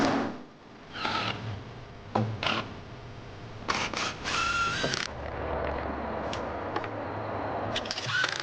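Screws being driven into a wooden top rail on a backyard pirate-ship play deck, heard as several short bursts of drill whine and rubbing noise separated by pauses, fairly close with a steady outdoor background.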